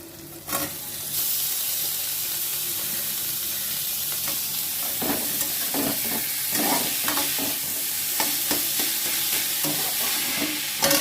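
Banana flower fries and is stirred in a pan, giving a steady loud sizzle with repeated scraping clatter of the spoon against the metal.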